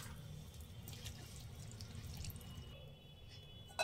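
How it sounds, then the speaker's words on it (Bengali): Water poured from a bowl into a bowl of cornflour for halwa, a soft trickling splash that is faint and close, with no talk. "আরও 1 বাটি জল দিয়ে দেব"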